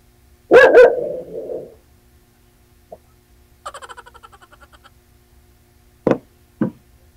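Roused by what it takes for someone outside, a dog lets out a loud bark and trailing growl, then a rapid series of softer yips, then two more sharp barks, close by in a quiet room.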